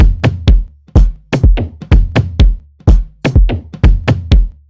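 A layered floor tom sits inside a programmed FL Studio beat in an Afrobeats groove, with repeated punchy hits and deep low thumps looping steadily and loud, no talking.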